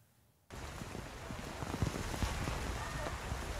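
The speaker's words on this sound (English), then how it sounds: "The rain here in Pemba, in northern Mozambique, keeps on coming." Heavy rain pours steadily in Pemba, northern Mozambique, a dense, even hiss that starts abruptly and continues loud and unbroken, with occasional heavier spatters.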